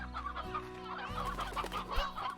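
Chickens in the video game Slime Rancher, several close, clear clucks following one another in a quick series.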